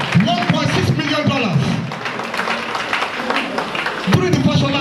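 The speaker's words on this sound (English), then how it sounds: "A round of applause for me, please." An audience claps at a youth day celebration of a local youth council branch, scattered applause heard alongside crowd noise and voices.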